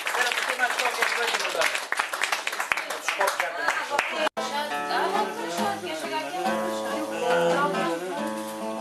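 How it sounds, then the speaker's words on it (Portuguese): Guests applaud a couple's 50th wedding anniversary with brisk, dense clapping for about four seconds, then it cuts off abruptly and sustained tones with voices follow. "Uma grande salva de palmas."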